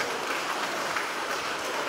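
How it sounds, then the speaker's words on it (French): Audience applause welcoming a guest, a member of parliament, on a talk show. A dense, steady wash of many hands clapping continues evenly with no talk over it. "On applaudit bien fort, s'il vous plaît."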